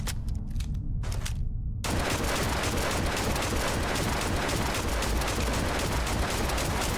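Gunfire from a weapon in the space game Starfield: a few scattered sharp shots, then a sustained, dense, loud roar of rapid firing and crackle that fills the rest of the stretch with no talking.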